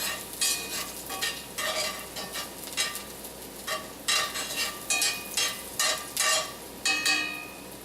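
Chopped celery sautéing in a pan for buffalo chicken stuffed mushroom filling, a continuous close sizzle with regular bursts of stirring and scraping, moderately loud and free of speech.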